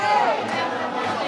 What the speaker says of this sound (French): c'est une immense foule qui attend l'homme aux 11 titres mondiaux et aux 3 titres olympiques